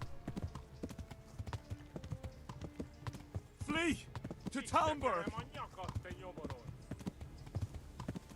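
Horse hooves clip-clop at a steady riding pace in the medieval video game Kingdom Come Deliverance, running continuously under the voices of game characters who call out loudly in the middle.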